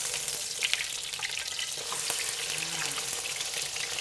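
Thai fried oyster omelette crisping in a hot pan gives a steady, even sizzle with faint clinks and watery crackle throughout, no voices.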